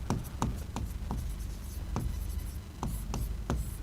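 Chalk or marker writing on a classroom board during a geography lesson, with a series of sharp taps and short scratchy strokes at irregular intervals, close and moderately loud, no talking.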